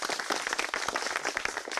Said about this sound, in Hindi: और ये तालियों की गड़गड़ाहट जो है